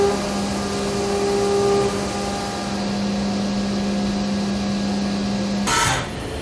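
A CNC milling machine with a 4th axis cuts a 1.5-inch cylindrical part, making a steady mechanical whine with sustained tonal hums that shift as the cut progresses, close and continuous, ending in a brief hissing burst.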